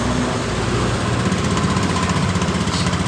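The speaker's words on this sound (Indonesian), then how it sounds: "Motor ini hidup dengan normal. Kita dengarkan, motor ini hidup dengan normal." A Honda Beat motorcycle engine idles nearby, a steady, loud, even rumble that holds constant throughout with no talking.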